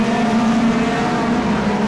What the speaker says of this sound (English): hard braking now into the hairpin